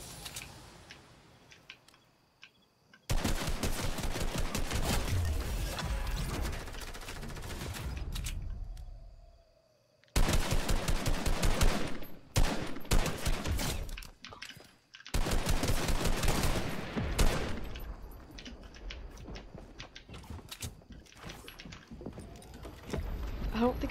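Rapid shotgun blasts in a video game, loud dense bursts in several long stretches separated by brief pauses, with a voice speaking at times.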